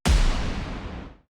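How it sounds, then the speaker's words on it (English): A deep cinematic sub boom built from the Jaeger sample library hits once, a heavy low thud that rolls off into a smooth rumbling decay over about a second, alone with no other sound. "In here, I have this sub boom that I created from Jaeger."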